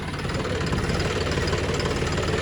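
A tractor engine runs steadily close by while puddling a wet mung bean field, a continuous low knocking rumble with no voices over it.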